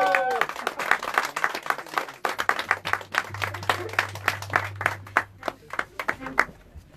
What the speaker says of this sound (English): Give a big round of applause to Anna.